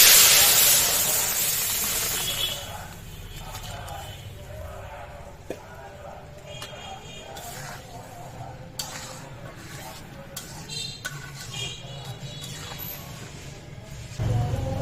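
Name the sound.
lentils poured onto fried onion, garlic, chili, sizzling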